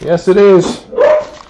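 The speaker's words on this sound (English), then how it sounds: "that's probably the dog's barking right now" Close, loud dog barks and yelps, two or three in quick succession, overlapping with a person speaking briefly.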